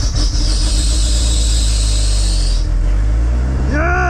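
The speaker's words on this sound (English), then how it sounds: "Start data log, start car." A compound-turbo DSM car engine starts up with a loud, steady hiss and rumble, then the whine sweeps upward as it catches and revs near the end.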